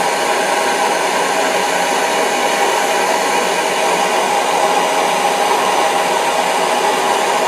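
Steady, loud broadband roar of a brazing torch flame heating the landing gear of a clipped-wing Taylorcraft, continuous and close with no breaks or talk.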